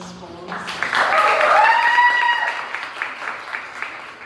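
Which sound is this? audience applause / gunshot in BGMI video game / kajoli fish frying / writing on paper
audience applause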